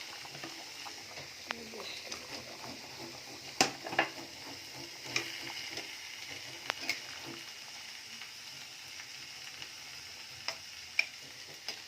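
Fried koi fish going into a simmering taro curry in a pan: a quiet bubbling sizzle punctuated by scattered spoon taps and clinks, faint overall.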